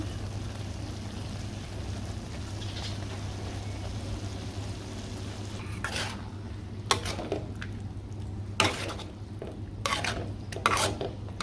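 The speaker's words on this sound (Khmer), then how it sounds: "ឆ្ងាញ់ណាស់បងប្អូនឆាពោតហ្នឹង" A spatula stirs corn in a pan over a steady low hum, with a few sharp scraping and clinking strokes against the pan near the end.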